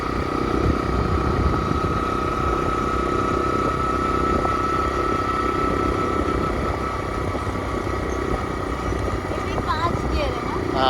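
A motorcycle with a five-speed gearbox drones steadily during a ride in hot sun, its engine hum continuous and prominent while someone talks over it.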